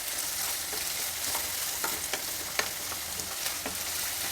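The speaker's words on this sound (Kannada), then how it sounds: "ಬಿಡ್ದಂಗೆ ಕೈ ಆಡಿಸ್ಕೊಂಡು ಇದನ್ನು ಫ್ರೈ ಮಾಡ್ಕೊಳ್ಬೇಕು." Carrots and beans being stir-fried over high flame for vegetable chitranna rice: a continuous loud sizzle with scattered scrapes and taps of a spatula against the pan, no voices.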